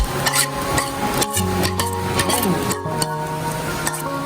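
Pork fried rice with egg is stirred and tossed in a pan, producing a steady scraping, clinking stir over a continuous sizzle, with some voice faintly present underneath.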